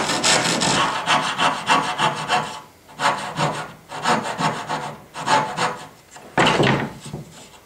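A handsaw cuts through wood while an entertainment center for a flat-screen TV is being built, giving loud, rhythmic rasping strokes in several bursts with short pauses between them. No one speaks.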